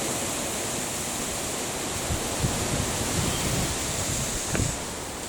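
Steady broadband wind noise rushes continuously at the microphone, with a few faint low thumps from buffeting, and no voices.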